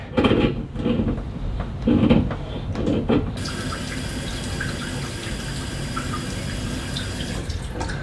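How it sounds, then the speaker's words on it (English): Water runs hard from a sink faucet, a steady loud rushing stream. Short bursts of handling and splashing come first, then the flow stays continuous and full to the end. "that sink is damn near shooting the water over the front of the sink"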